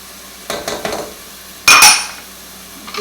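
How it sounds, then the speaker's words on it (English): Onions, garlic and ginger are stirred in a pan for chicken tikka masala: two short bursts of utensil scraping and clatter against the pan over a faint background sizzle, nearby and without speech. "Get that good and stir it up and cook for about 2 to 3 minutes."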